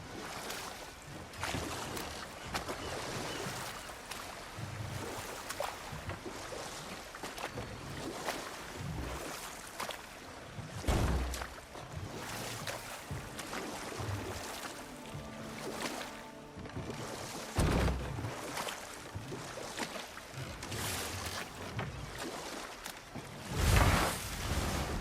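A video game waterfall roars as a dense, steady wash of rushing water that fills the whole scene, with a few heavier surges rising out of the constant spray.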